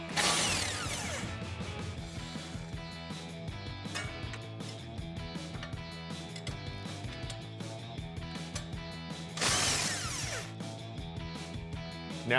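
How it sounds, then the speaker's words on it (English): A ratchet turns an 18mm socket while a 17mm wrench holds the back of the strut bolts on a 2011-2014 Mustang, giving repeated clicking strokes close up against a busy background of other noise. "Now just 17mm wrench, put it on the back, 18mm socket on the front."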